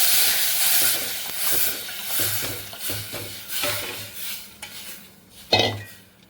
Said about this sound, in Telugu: పొయ్యి మంట పెట్టిన తర్వాత కలుపుతూనే ఉండాలి